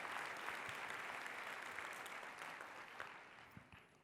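A keynote audience claps together in sustained, dense applause that holds steady and then slowly thins toward the end.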